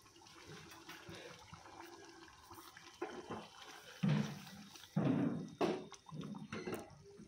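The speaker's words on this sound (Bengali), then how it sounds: "যতটা আমি রাখবো সেই অনুযায়ী আন্দাজ মতন করে জলটা দিয়ে দেব।" Water poured from a vessel into a pan of rita fish curry in a home kitchen, a few short splashy pours at moderate volume over a faint background hum.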